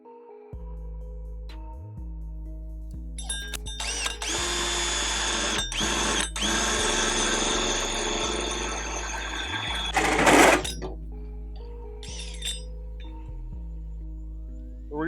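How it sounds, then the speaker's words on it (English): A 2 3/8 inch hole saw on a power drill cuts a clearance hole for an oil fill neck on a custom car build, with a steady loud whine and grind in bursts, pausing briefly between cuts. "I'm just basically gonna use a 2 3/8 hole saw, cut a hole"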